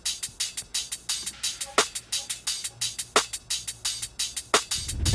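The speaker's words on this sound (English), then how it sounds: "This hi-hat here, without effects on it, sounds like this." A dry, unprocessed electronic hi-hat in a produced drum groove, ticking in steady rapid sixteenth notes with a few louder accented hits and a low kick-like thump near the end.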